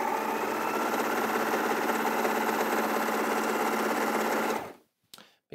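A sewing machine joins fabric pieces for a geometric dress, running at a steady, fast, loud whir for over four seconds before it stops, followed by a few faint clicks of handling.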